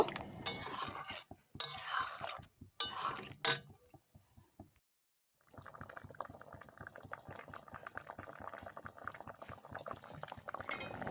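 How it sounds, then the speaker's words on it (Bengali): A light fish, potato and ridge gourd curry bubbling in a pan, with busy crackling and simmering, a brief silent gap midway, then steady boiling resumes. "ঝোলটা দিয়ে মিনিট দুই তিনেক ভালো করে ফুটিয়ে নেব"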